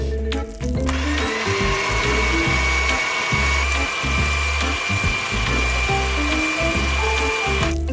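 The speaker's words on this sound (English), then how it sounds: "We need to cream together the butter and sugar until it's light and fluffy." An electric mixer creams butter and sugar for a miniature chocolate cake, a steady, loud whirring drone with rattling beater texture that runs unbroken for several seconds after a brief dip near the start.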